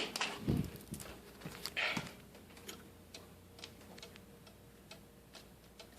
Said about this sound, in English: Here's my cuckoo clock.